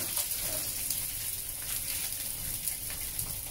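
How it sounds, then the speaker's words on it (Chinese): Cooked pork belly slices, previously made with shrimp paste and chilled for days, reheating in a pan, giving a steady, close crackling sizzle with fine spattering pops throughout. "而家咁煎落都好香。"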